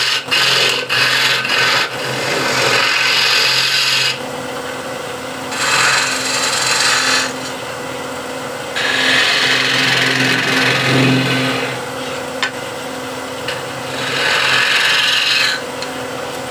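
Spindle gouge cutting into spinning wood on a lathe, producing a loud rasping scrape in repeated passes of a few seconds each over a steady motor hum.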